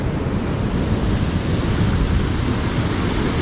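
Sea waves wash continuously onto a hidden beach near Vizag, a loud, steady rushing roar with wind buffeting the microphone throughout.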